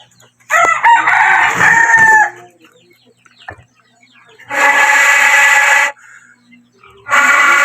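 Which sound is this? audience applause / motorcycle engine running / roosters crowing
roosters crowing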